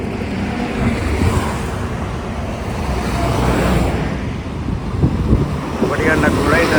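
Steady roadway rumble and whooshing passes of vehicles on a Hyderabad to Vijayawada highway, heard from beside a parked Bolero pickup at night, with wind buffeting the microphone throughout.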